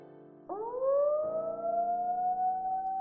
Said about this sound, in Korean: 어느 날 밤 A는 공습경보의 사이렌 소리에 눈을 떴다.